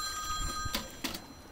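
A telephone bell rings in two short, close bursts over a steady background hum, with no talk.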